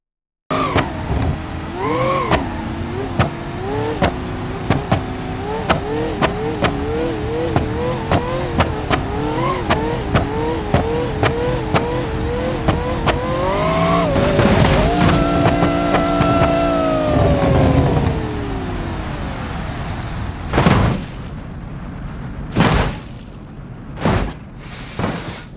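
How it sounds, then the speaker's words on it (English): A Chevrolet Impala speeding up on nitro in the driving game BeamNG.drive, its engine climbing in pitch through repeated gear changes to a high whine, followed by a few heavy crashing impacts near the end. "watch how a car gets destroyed at maximum speed using Nitro"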